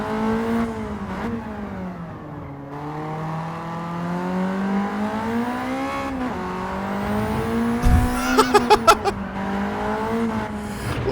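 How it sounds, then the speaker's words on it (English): Turbocharged race car engine in a racing video game, heard from the cockpit as a loud, sustained drone that rises and falls through gear changes, with quick rattling pops near the end. "Oh, it sounds so good from the inside. The turbo lag and then it just randomly kicks in."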